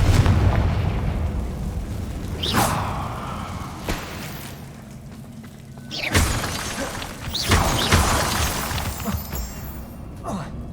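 Bombarda and Confringo explosion spells cast in the Hogwarts Legacy video game: several sharp, booming blasts at irregular intervals, each followed by a crackling tail, over a continuous rumbling game ambience.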